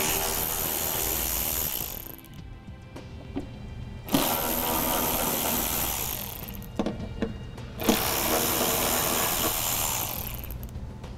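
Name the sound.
removing screws with a 10 millimeter socket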